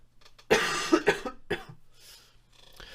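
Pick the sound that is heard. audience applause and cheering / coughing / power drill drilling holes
coughing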